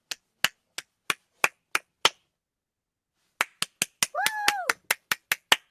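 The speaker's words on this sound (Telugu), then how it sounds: "Many hand claps." A long run of single sharp claps or snaps at a steady pace, a short pause, then more in a quicker series, with a brief tonal whoop in the middle of the second run.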